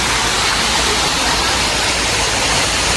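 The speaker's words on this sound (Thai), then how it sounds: "ก็คือน้ำเนี่ยไหลมาจากน้ำตกฝั่งโน้นเลยนะพี่ ๆ" The Sai Yok waterfall sends a constant broadband roar of rushing water, dense and unbroken throughout, with no other sounds standing out.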